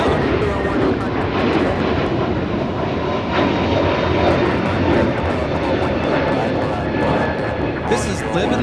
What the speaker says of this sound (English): taking off to JFK on JetBlue 424. It's an A321 Neo.